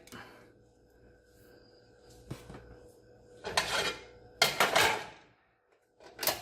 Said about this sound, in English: I'll grab a spatula and put it onto the plate